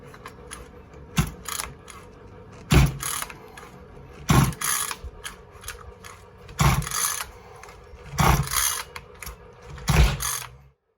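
A Kraken SX5 RC car engine is cranked in repeated bursts, each a loud mechanical ratcheting whir lasting about a second, spaced a second or two apart, and the engine never catches.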